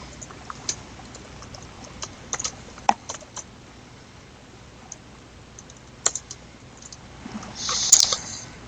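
Sparse, light keystrokes on a computer keyboard while setting up a project environment, isolated clicks scattered over several seconds with a short busier burst near the end, close and fairly quiet, no talking.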